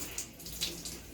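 Hot water runs from a tap into a sink while a shirt is being soaked for tie-dyeing, giving a steady, fairly quiet hiss and splash with a few brighter surges.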